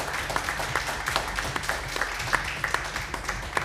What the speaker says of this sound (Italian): facendo comunque un applauso a tutti e 4 perché sono stati davvero bravi